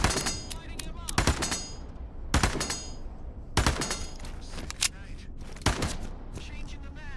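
Rapid automatic gunfire in Into The Radius 2, with several loud, sharp bursts of rattling shots separated by short pauses and a ringing tail after each burst.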